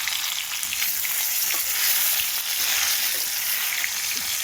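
Fish fry in a pan with a close, steady sizzling crackle and small pops, unbroken throughout and with no voices.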